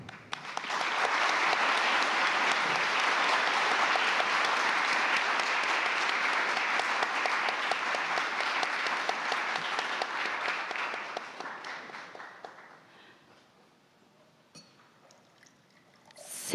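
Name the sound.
audience applause at seminar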